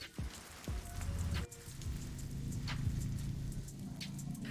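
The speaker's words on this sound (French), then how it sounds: "La pluie n'est pas si mauvaise." Steady rain pattering on a car's roof close by, with a low rumble underneath and occasional heavier drops.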